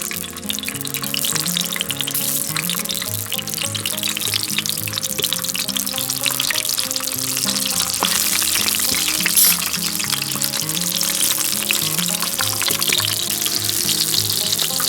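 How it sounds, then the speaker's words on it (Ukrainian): Sausages fry in a pan outdoors while an English breakfast is cooked, giving a dense, continuous, close sizzle and spatter with crisp pops for the whole stretch, and no voices are heard. "Першими обсмажуємо сосиски."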